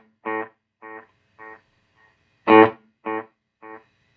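A Donner guitar echo pedal sounds a short guitar note followed by several fading repeats, then a louder note with repeats again, each echo evenly spaced and quieter than the last, played alone with no talking.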